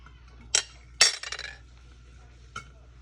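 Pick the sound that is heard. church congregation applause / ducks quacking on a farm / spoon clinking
spoon clinking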